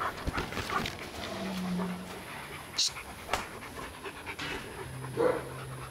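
A dog named Lapu-Lapu pants in quick, soft breaths close by, with a few faint whimpers and scattered noises around it and a voice briefly speaking.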